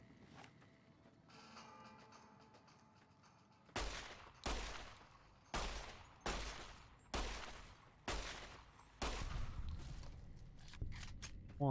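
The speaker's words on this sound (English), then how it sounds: "Hoping I can get a few shots off." Gunfire in Fallout: New Vegas: after a quiet stretch, about eight loud, evenly spaced shots ring out, each with a short decaying tail, close and distinct.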